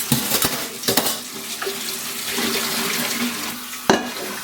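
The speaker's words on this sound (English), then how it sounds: "Give it a good wash." Tap water runs into a sink while the inner pot of an Instant Pot Pro is washed, a steady splashing stream with a few sharp clanks of the pot against the sink.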